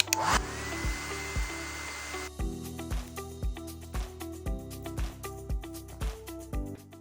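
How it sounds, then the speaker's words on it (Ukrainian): A hair dryer whirs in a steady high rush for about two seconds, heating a glued repair, then stops, followed by a series of regular low thumps. "І тепер це все прогріваємо феном."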